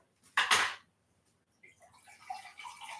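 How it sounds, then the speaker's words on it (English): Hot water is poured into a pot in the kitchen: a brief gushing splash, then after a pause a lighter trickling pour with small clinks. "So what I'll do is I'll put the water in first."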